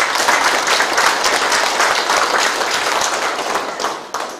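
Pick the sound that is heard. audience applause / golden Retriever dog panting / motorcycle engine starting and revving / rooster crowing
audience applause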